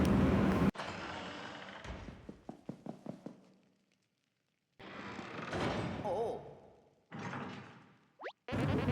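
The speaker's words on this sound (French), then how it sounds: "la porte vient littéralement de se refermer sur eux" A door shuts with a solid thud in Paper Mario: The Origami King, surrounded by bright game music and effect sounds, with short silent gaps between bursts.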